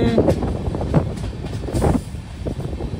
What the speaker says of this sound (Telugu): ఏదో ట్రైన్ ఉంది